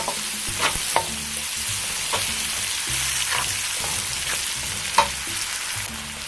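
Garlic and onion sauté in a hot pan for pancit canton, a steady oil sizzle with periodic scraping stirs and a few sharp clinks of the utensil against the pan, no voices over it.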